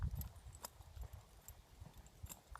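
A ridden horse trots around a circle, its hooves clip-clopping in a steady rhythmic beat, close and moderately loud.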